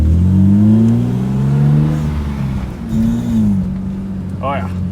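A BMW E30 M3 running in limp mode on a lap around a complex, its engine droning loud and steady from inside the car, with a brief voice near the end.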